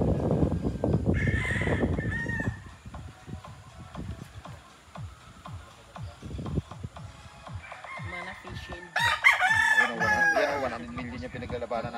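A gamecock crows twice at a Filipino cockfight, a brief call near the start and a louder, longer crow toward the end, with clucking, shuffling and murmured voices in between.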